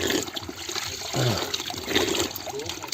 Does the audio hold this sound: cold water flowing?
yes